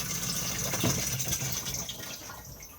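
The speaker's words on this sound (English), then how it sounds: "Push button to flush." Thetford cassette toilet in a Benimar Mileo 282 motorhome washroom flushing, a steady close rush of water into the bowl that swells briefly near the start and tapers off, with no talking.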